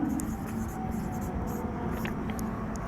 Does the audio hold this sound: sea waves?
no